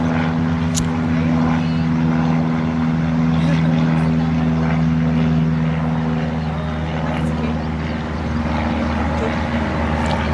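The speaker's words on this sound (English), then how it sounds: "it's an airplane going over" A plane passes overhead as a steady low engine drone with a strong tonal hum, holding at even loudness through the whole stretch, with faint background murmur.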